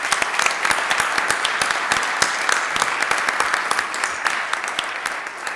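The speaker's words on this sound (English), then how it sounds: "So let's give her a big round of applause." Steady, dense applause from an audience at a city council meeting, many hands clapping together at a constant, fairly close level for several seconds with no talk over it.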